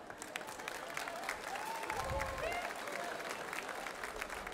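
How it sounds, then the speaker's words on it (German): An outdoor crowd at a wine festival in Bernkastel on the Mosel applauds, with a steady wash of clapping from many hands. Voices and faint cheering mix in, and the sound stays fairly even throughout. "das ist immer ein Applaus wert"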